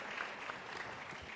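An audience applauds at a public debate event held in a Rio de Janeiro favela, a brief, fairly faint patter of many hands clapping with no voices over it.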